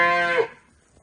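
A single loud, close moo from one of the calves in a cattle shed of crossbred calves, a rich harmonic call lasting about half a second before fading to quiet.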